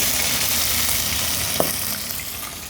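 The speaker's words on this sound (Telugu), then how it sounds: "ఆయిల్ హీట్ అయిన తర్వాత 3 పచ్చిమిర్చి వేసుకుంటే ఆ తర్వాత జింజర్ గార్లిక్" Three green chillies with ginger garlic frying in hot oil for a ragi sangati chicken curry give a steady close sizzle, with one brief pop partway through before the hiss eases slightly.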